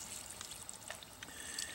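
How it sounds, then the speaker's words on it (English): Water poured from a container into a small depression in tilled field soil, a soft, quiet trickle and splash lasting under two seconds with no voices. "So I'm going to pour some water in right here,"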